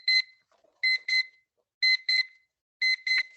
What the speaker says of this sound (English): let me test the timer for you, and please tell me if you can hear this.